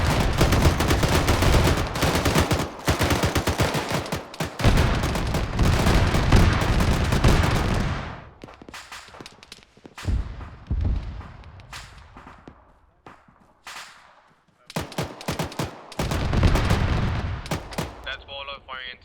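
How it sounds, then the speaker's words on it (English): Gunfire in the video game Arma 3, during a night convoy operation: dense rapid volleys of shots crackle loudly for several seconds, then thin into scattered single and short bursts of fire, with voices talking in between. "That's Waller firing into the area."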